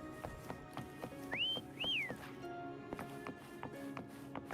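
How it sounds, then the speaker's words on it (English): A character in the video game Wuthering Waves whistles two short rising-and-falling tones in a row, set against soft footsteps and light ambient game sounds. "Try whistling."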